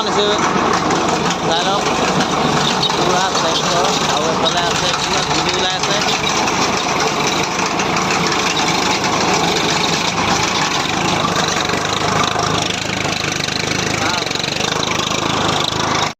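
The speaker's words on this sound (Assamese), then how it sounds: "এইখনে হ'ল আধুনিক ট্ৰেক্টৰত লগাই ফাল লগাই নলা খান্দিছে" A tractor fitted with a plough blade drones steadily throughout while digging a trench, grinding and scraping soil and debris, a continuous heavy mechanical noise close by.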